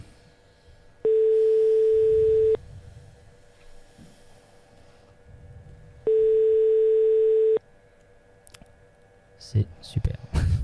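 Two long, steady electronic tones sound on a phone line during a call, each about a second and a half with a pause between, while muffled voices and rustling carry on underneath.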